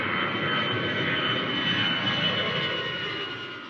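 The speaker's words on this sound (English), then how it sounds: "David Ibbotson is seen on the runway, preparing the plane ahead of the flight" A light aircraft's engine drones steadily on a runway, a close, constant hum with a faint whine that holds level before easing slightly toward the end.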